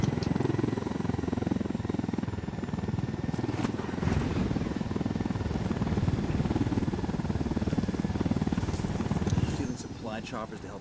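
A helicopter in a video game throbs steadily and loudly, its rotor and engine drone running continuously throughout before easing off near the end.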